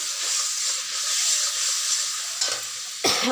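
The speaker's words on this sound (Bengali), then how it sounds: "জিরে আর তেজপাতা দিয়ে মশলাটা দিয়ে দিলাম" Cumin seeds and bay leaves sizzle with ground spices in hot oil in a pan for a vegetarian curry: a steady close crackling hiss, with a sharper, louder burst of sizzle near the end.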